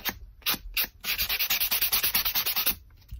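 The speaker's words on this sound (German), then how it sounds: "die schleife ich jetzt noch ein bisschen" Sanding block rubbed back and forth along the cut edge of grey board, a quick run of rhythmic scratchy strokes close up, with no talking.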